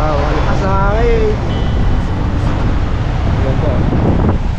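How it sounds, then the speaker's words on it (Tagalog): Strong wind roars across the microphone along a coastal road on the Mabini loop in Batangas, a loud continuous rumble with a voice briefly speaking over it at the start. "Malakas ang hangin."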